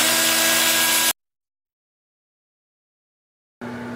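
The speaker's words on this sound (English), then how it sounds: "I'll just use the same 2-inch sanding disc and get it in here with my finger a little better." A power tool spins a 2-inch sanding disc against a birch platter, a loud steady whirring grind that cuts off abruptly, falls silent for a few seconds, then starts again.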